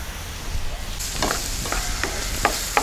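Carrot and capsicum sautéing in a pan for macaroni, with a steady close sizzle and a few sharp spoon clinks against the pan near the end.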